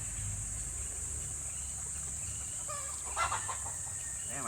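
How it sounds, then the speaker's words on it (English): A chicken outdoors clucks faintly under steady background hiss, with a short burst of louder squawking near the end as it flaps up into a tree. "Damn chicken flying up in the tree."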